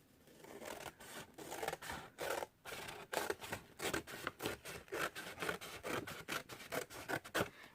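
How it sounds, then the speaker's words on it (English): Scissors snip and slide through paper while trimming pages for a handmade journal, a close series of rhythmic rasping cuts with short gaps between strokes. "I'm going to cut that off, and you'll cut this side off, leaving a little extra."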